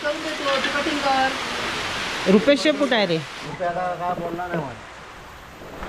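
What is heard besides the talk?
rain falling outdoors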